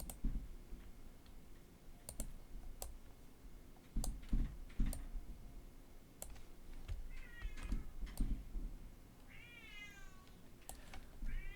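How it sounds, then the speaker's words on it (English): A cat meows dramatically and repeatedly in drawn-out, wavering cries near the end, while scattered clicks and keyboard taps sound throughout indoors. "there is a cat being overly dramatic"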